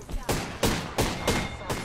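Apex Legends gunfire comes in about five evenly spaced bursts, moderately loud, with faint voices underneath.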